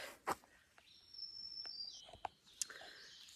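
Faint bird calls sound in a quiet forest on Bald Knob along the Foothills Trail: a thin, high whistled note and a few sharp chirps scattered over soft background ambience.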